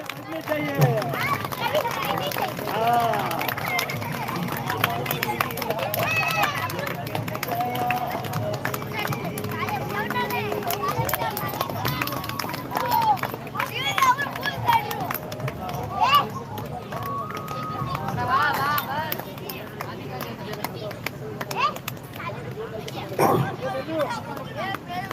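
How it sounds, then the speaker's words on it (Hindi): An audience at a religious gathering claps continuously in a dense, steady rhythm while welcoming saints, with a voice speaking over the applause and a background crowd murmur. "बजाते रहिए, तालियां बजाते रहिए भैया।"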